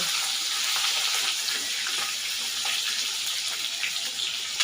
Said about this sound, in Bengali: দেখুন মাছের তেল অনেক ছিটকাচ্ছে